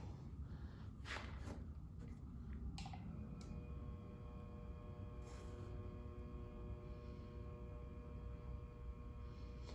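An electric motor drives a bead roller at low speed while door panels are shaped for a 1950 Chevy 5-window, a steady low hum with faint tonal whine and a few brief clicks near the start, no talk.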